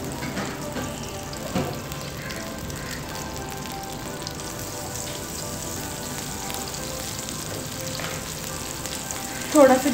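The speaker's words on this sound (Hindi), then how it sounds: "एक फ्राई पैन में मैंने 3 टेबलस्पून ऑयल लिया, इसके अंदर मैं 2 टेबलस्पून बटर डालूंगी।" Oil and butter, three tablespoons oil with two of butter, sizzling in a frying pan, a steady close crackle throughout with a louder burst near the end.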